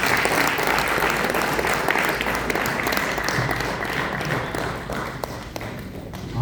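An audience applauds after a speech, steady dense clapping that holds throughout and thins slightly toward the end.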